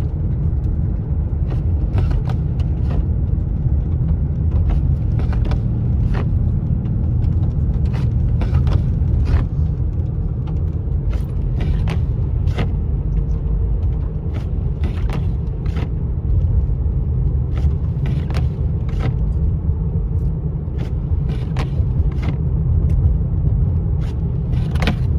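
A car drives a snowy mountain road at night during a snowstorm at 21°F, its steady low engine and tyre rumble continuous and loud, with repeated faint clicks and scrapes from ice on the wipers.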